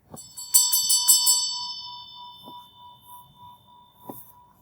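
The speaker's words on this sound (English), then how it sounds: "It's why we use the Dorjian bell together." A Tibetan dorje bell struck several times in quick succession, then leaving a long, clear ringing tone that slowly decays, with a couple of softer taps later, in a quiet room.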